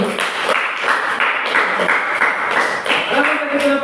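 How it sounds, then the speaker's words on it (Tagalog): A classroom group is given a round of ten claps, a dense, steady patter of many hands clapping close by for a few seconds, with voices mixed in underneath. "bigyan natin sila ng 10 palakpak"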